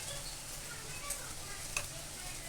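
Bitter gourd, eggplant and potato frying in oil in a pan, giving a steady faint sizzle with a couple of small ticks, heard from a short distance throughout.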